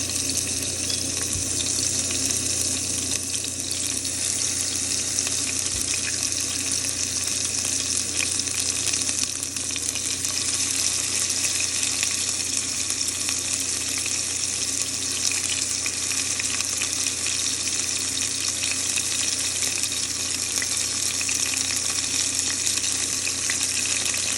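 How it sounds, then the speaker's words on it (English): Beef pieces browning in a pan for old-fashioned beef stew, giving a loud, steady, dense sizzle that continues without a break, close up and with no talking. "I'm going to start adding the meat one by one. We're just going to brown them on each side."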